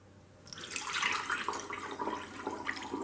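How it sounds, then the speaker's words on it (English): Homemade ginger beer is poured through a funnel into a bottle, a soft continuous splashing trickle of liquid after a brief quiet start, close and fairly faint. "I'm going to pour the liquid through a funnel"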